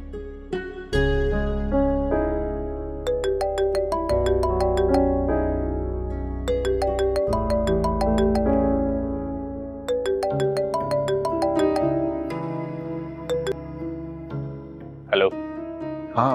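During a phone call, a melodic ringtone plays a repeating tune of bright, bell-like notes over a sustained low backing, loud and continuous, before cutting off near the end.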